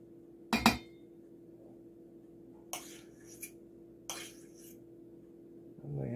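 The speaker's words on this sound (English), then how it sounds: "I'm trying to get this spoon cleaned up" A metal spoon being cleaned clinks sharply against a dish, followed by a few quieter clatters and taps spaced apart over a low steady hum in a quiet kitchen.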